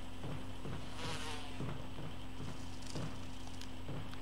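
Wasps in the Resident Evil 1 remake make a thin, wavering buzz that drifts in and out over a constant low game hum and soft pattering sounds.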